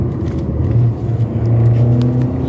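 Petrol car engine revving hard toward 6000 rpm in second gear from about 60 km/h, a steady loud rising drone that holds close and continuous throughout.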